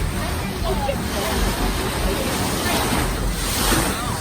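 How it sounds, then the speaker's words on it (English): Steady rush of water and wind around a tour boat moving on West Lake Okoboji, a constant low churning wash with a murmur of voices in the background. "Definitely a nice day for a boat ride."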